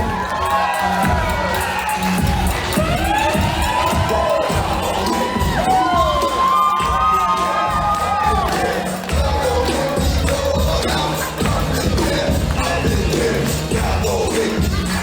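A wedding reception crowd cheers, whoops and shouts continuously at close range, a dense, loud wall of voices with scattered high yells throughout.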